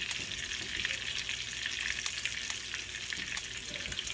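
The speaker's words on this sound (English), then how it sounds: "let that chicken cook for a few minutes on each side" Chicken frying in a pan, a close, bright, continuous sizzle with small crackling pops, steady throughout and with no talking.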